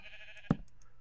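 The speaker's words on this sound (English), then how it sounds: "I hear sheep." A single short sheep bleat from Minecraft sounds once, fairly faint and isolated over a quiet background.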